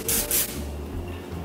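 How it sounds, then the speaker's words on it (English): A can of low-cholesterol cooking oil sprays into a cake pan: two quick, close hissing bursts, then a softer rubbing hiss as the spray trails off. "shake this low cholesterol oil up, pop that sucker open and act like you're spray painting"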